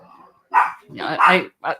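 A small pet dog barks and yips excitedly in the background after someone arrives at the door, in short bursts heard beneath ongoing talk.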